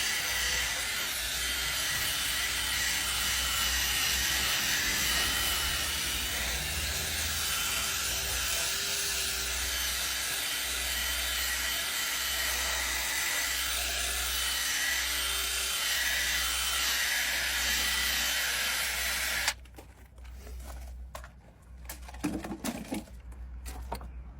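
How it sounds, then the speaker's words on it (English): A white drill brush head scrubs foaming cleaner into a car floor mat, a continuous whirring, rubbing grind that runs steadily, then cuts off into quieter handling noises. "going to use my white drill brush head just to agitate this in"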